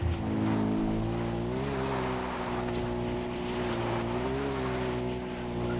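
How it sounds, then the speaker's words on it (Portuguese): Car engine droning steadily while the vehicle drives itself on autopilot in the video game Far Cry 4, a constant loud hum with slight pitch rises and dips, mixed with road and wind noise, no talk. "enquanto meu carro aqui é pilotado automaticamente"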